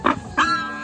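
Pigs give two short grunting squeals up close, a brief double vocalization with no talk.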